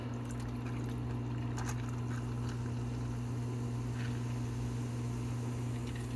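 Root beer pours over nugget ice from a Freezimer DreamiceX2 nugget ice maker, a continuous fizzy stream of liquid over a steady low appliance hum.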